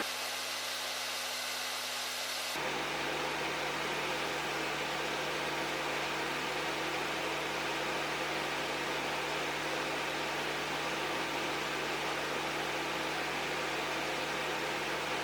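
A hot air rework station set to 440 at 50% airflow blows with an extractor fan during board soldering. The hiss kicks in abruptly after a short quiet start and then holds as a loud, even, steady rush.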